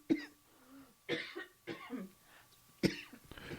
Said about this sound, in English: It's a cough-a-thon.